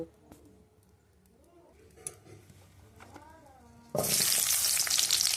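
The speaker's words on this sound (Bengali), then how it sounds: "তো এবার আমি দিয়ে দিচ্ছি তেল, দিয়ে এবার আলুগুলোকে একটু ভেজে নেব।" Potatoes dropped into hot oil in a wok burst into a loud, dense sizzle that starts suddenly and holds steady to the end, after a quieter stretch with a voice speaking and soft kitchen clatter.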